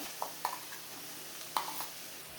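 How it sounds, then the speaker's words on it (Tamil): Ground spice paste sautéed in oil for rasam, a faint soft sizzle with a few light clinks of a spoon against the pan, quiet and close. "அரைச்ச விழுது சேர்த்ததுக்கப்புறம் 1 நிமிஷத்துக்கு வந்து இந்த எண்ணெயில் வந்து நல்லா வதக்கிக்கலாம்"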